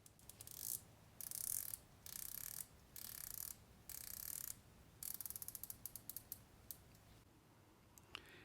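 The rotating bezel of a slim Christopher Ward dive watch clicks in quick ratcheting bursts, several separate turns followed by a rapid run of fine individual clicks, close and quiet with no talking.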